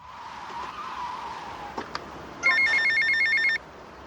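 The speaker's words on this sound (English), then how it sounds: "at the very end of the game, Ernest actually gives you this phone call" A telephone rings once in a GTA video game: a bright electronic trilling burst of about a second, loud and close, standing alone over a quiet, steady game background.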